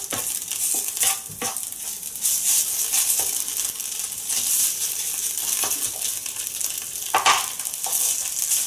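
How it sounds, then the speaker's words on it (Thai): Food stir-fries in a hot wok while a utensil scrapes and clinks against the metal now and then, steady frying noise underneath. "ใช้กระทะผัดให้หอม"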